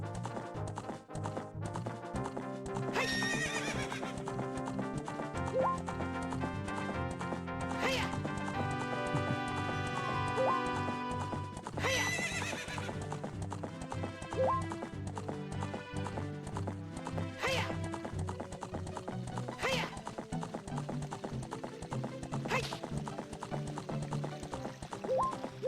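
Horses in a video game, summoned by playing a song, with whinnies and steady clip-clopping hooves over a continuous layer of game music throughout.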